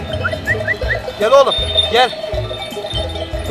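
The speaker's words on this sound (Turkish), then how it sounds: "Şimdi 700 tane koyun böyle vadenin içine yayıldı gitti." A large flock of sheep in a valley bleat in a couple of wavering cries amid a shepherd's calling voice, with outdoor background noise throughout.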